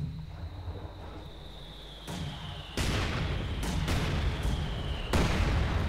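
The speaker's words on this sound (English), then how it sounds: "he's actually firing his mortar into the Serb base home to catch some troops there" Mortar fire booms in the World War II strategy game Company of Heroes 2: several loud, heavy blasts land at irregular intervals over a steady rumbling battle background with a thin high tone.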